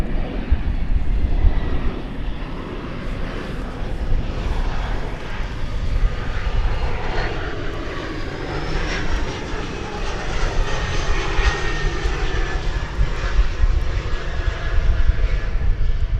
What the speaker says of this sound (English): Makes a lot of noise for a little E-jet.